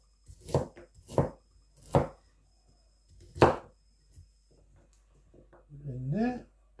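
A knife chops five garlic cloves, skin on, into small slices on a board while ribs cook in a smoker nearby; a few sharp, close chopping strokes sound in the first half, with brief talk at the end.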